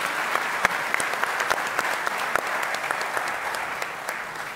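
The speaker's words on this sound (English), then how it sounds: "can I please get a round of applause for our distinguished panel?" Crowd applause, a steady wash of many hands clapping at moderate distance, continuing evenly without voices.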